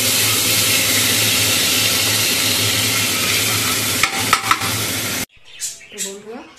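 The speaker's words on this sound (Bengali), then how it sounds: "আর চালটাকে আগে ভেজে নেবো" Rice frying in hot ghee with whole garam masala for khichuri, a loud steady sizzle with stirring that breaks into scraping clatters near the end, then cuts out to quieter background sounds.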